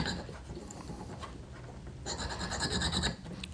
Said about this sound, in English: I might go to the coarser side of the stone for just a quick second here.